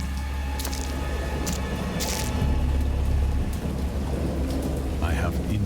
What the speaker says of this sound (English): It sounds like it's raining.